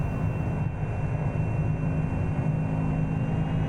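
A propeller plane's engine in X-Plane 11 drones loud and steady as throttle comes up, a continuous close hum with a faint tonal whine and no voices.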